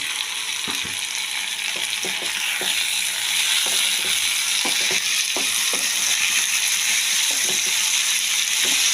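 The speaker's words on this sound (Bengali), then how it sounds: "এবার একে একে আমি দিয়ে দেব রসুন, কাঁচা লঙ্কা, আদা বাটা, টমেটো, আলু সব দিয়ে আবার একটু আমি এটাকে ভাজা ভাজা করব।" Garlic, green chili, ginger paste, tomato and potato fry alongside mutton fat for chana masala, a steady bright sizzle punctuated by irregular clicks and scrapes of a spatula stirring in the pan.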